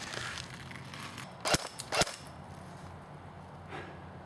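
A JG 608 Mk36c airsoft AEG fires 0.20 gram BBs outdoors from about 50 feet. Two sharp cracks about half a second apart stand out against steady background noise, with a fainter pop following later.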